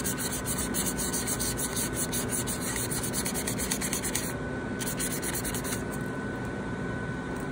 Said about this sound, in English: Best way to clean is with sandpaper.